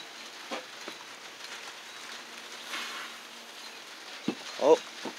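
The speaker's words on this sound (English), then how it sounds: "It's freaking starting to rain." A soft steady patter of rain falling outdoors, with a few scattered nearby knocks and a brief voice near the end.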